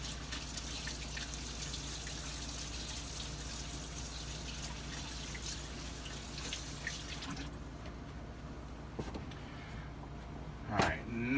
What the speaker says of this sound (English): Rinse my hands here.